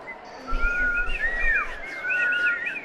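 Someone whistles a string of warbling, sliding bird calls, imitating a jungle chorus, with a low rumble underneath.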